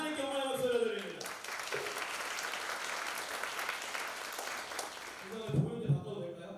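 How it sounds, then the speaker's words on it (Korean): A church congregation at a youth winter retreat claps in praise, sustained loud applause that carries most of the stretch, framed by a voice speaking before and after. "하나님께 영광의 박수 올려드립니다."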